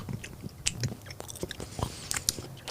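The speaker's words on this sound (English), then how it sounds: "chewing in the mic" Someone chews close to a microphone, with crunchy, wet bites and mouth clicks in an uneven rhythm. The sounds are loud, intimate and alone, with no talking.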